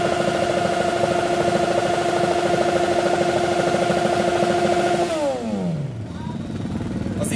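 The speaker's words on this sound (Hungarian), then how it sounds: "Orbán Zolinak a motorja volt" A motorcycle engine revs hard and steadily at a 2014 motorcycle meet in Fehérgyarmat, a loud sustained high-pitched drone that drops sharply in pitch near the end as the throttle closes.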